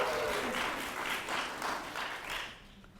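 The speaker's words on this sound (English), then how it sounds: "please give her a hearty applause" Congregation at a Unitarian Universalist Sunday service applauding, a dense wash of clapping with a few cheers that holds steady for over two seconds, then fades away.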